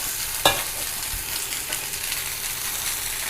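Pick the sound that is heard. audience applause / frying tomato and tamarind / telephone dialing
frying tomato and tamarind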